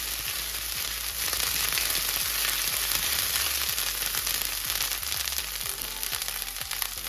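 Ginger paste and finely chopped coriander leaves sauté in a hot pan, giving a steady, close, dense sizzle and crackle that holds unbroken throughout, with no voices.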